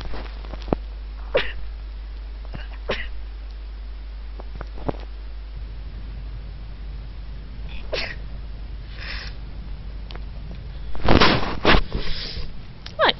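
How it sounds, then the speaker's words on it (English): A single sharp sneeze bursts out near the end, loud and close, following a stretch of quiet room noise with a few faint clicks and rustles, during a narrated playthrough of Dragon Age: Origins. "I'm just about to sneeze."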